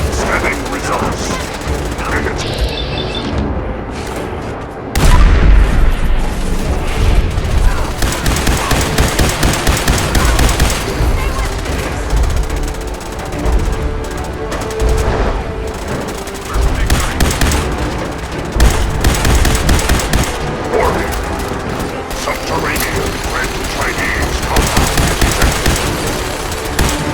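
Gunfire in Fallout 4 on Xbox Series X: loud, rapid bursts of machine-gun fire and single shots crackle in repeated volleys, separated by brief lulls, with occasional voices in between.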